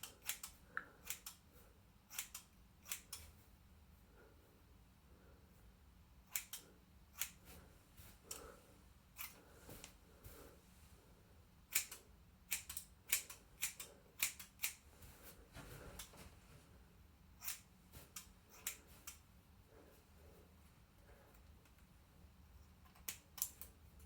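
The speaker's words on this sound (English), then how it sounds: "then it's just as easy to use the scissors and" Scissors snip through hair during a home haircut. Faint, close-up clicks come in irregular bursts, sometimes in quick runs and sometimes spaced apart, with no talk.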